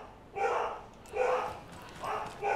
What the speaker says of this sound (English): the dogs are always barking when I'm streaming